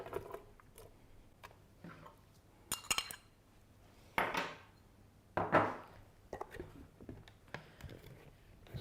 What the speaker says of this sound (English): you might want to chop your bananas a little bit finer than what I am doing right now